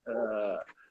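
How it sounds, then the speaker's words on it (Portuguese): A dog barks and growls close by in one sustained, harmonic-rich bark-growl, followed by a short softer yip and a whimpering tail. "tem um cachorro latindo aí na live, estão falando"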